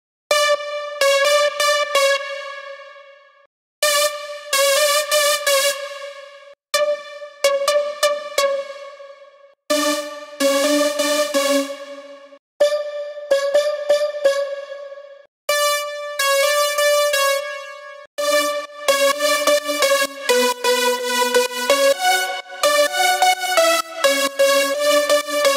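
Six stacked synth lead layers for a progressive house drop, made with FL Studio 20 stock plugins, play bright bursts of chopped stabs separated by short silences, then a denser running melody near the end, loud with no voices.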